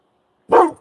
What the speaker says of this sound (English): He didn't used to bark at people.